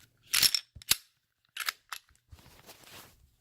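Sharp mechanical clicks and metallic clacks sound up close from a Smith & Wesson M&P Shield subcompact 9mm pistol as it is cleared. The slide is worked in short separate bursts with quiet gaps between them, and a lighter rattle follows.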